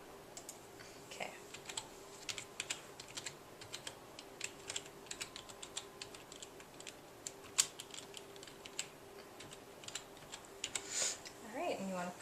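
Rapid, irregular clicking of keys on a computer keyboard fills a quiet room, soft and steady with occasional louder taps and brief pauses, while faint talk is heard near the end.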